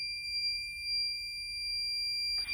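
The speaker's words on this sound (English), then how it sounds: "you're going to hear an alarm when the side door is opened" A steady, high-pitched electronic beeping alarm sounds continuously inside a mobile library vehicle when its side door is opened, clear and close before a brief rustle at the end.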